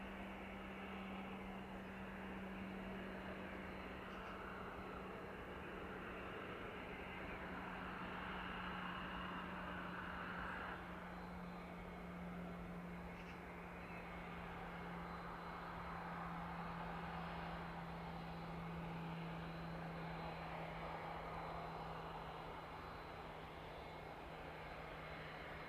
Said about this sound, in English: Citation we saw making its way in just a few minutes ago, making its way towards us on the taxiway now